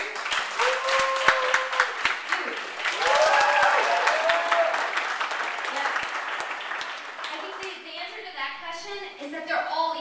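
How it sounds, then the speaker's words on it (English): Audience applause rising into sustained clapping from a crowd, with cheering voices mixed in, tapering off toward the end. "So clap for the one you think is the most important."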